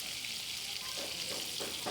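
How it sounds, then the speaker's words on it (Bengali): Eggplant slices fry in a pan, a dense, continuous hiss of sizzling oil heard close up, with the soft shift of stirring and no voices. "এই দেখেন আমার এক ভাবি বেগুন ভাজতেছে"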